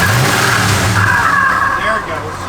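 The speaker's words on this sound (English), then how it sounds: "Give it a little rev, Gary." A 1973 Pontiac Grand Prix with flow mufflers revs up close, a loud, rough, sustained engine roar that holds steady and then eases off near the end.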